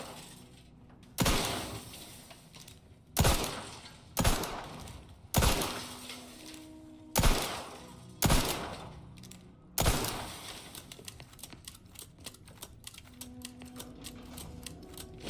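Gunfire at a target in Outer Worlds 2, a series of sharp loud shots at irregular intervals, about seven heavy blasts followed by a quicker patter of lighter clicks.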